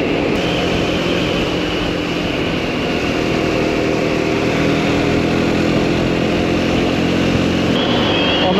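Motorcycle engine on a hilly Swiss mountain pass during a Grand Tour of Switzerland: a loud, steady close-up drone with a constant mechanical hum, wind noise mixed in, and no talking.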